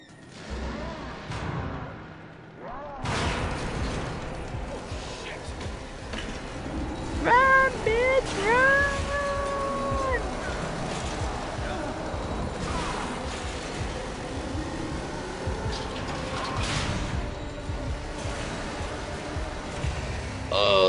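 A chainsaw engine drones steadily in The Evil Within, a survival horror game, with loud thuds, clanks and short tonal game effects over it and a voice talking throughout.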